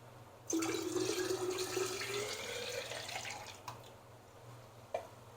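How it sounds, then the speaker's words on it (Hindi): Cold water pours steadily into a glass for several seconds over a low background hum, followed by a couple of small clinks. "ठंडा पानी डालेंगे इसमें।"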